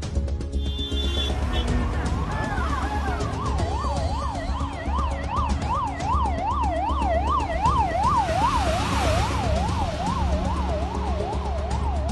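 A fire brigade vehicle's siren wails loudly and continuously at a fire during an aero show in Bangalore, its rising and falling tone sweeping steadily over traffic and crowd noise.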